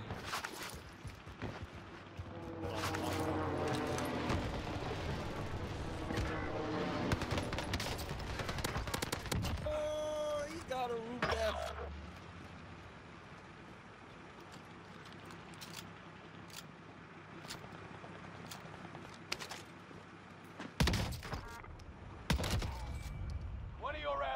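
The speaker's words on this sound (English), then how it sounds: "Bro, I just sniped that guy across the map." A sniper shot rings out in the video game Call of Duty Warzone on Rebirth Island, a sharp crack among scattered gunfire bursts and game noise, with a player talking over parts of it.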